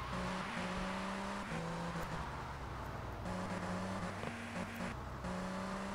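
Car engine in the mobile version of GTA Vice City, a steady motor drone with shifting pitch steps as the vehicle drives and maneuvers, continuous and moderately loud with no talking.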